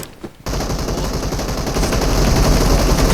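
Rapid gunfire rattles continuously and loudly in a PUBG Mobile match, following a brief quiet moment at the start.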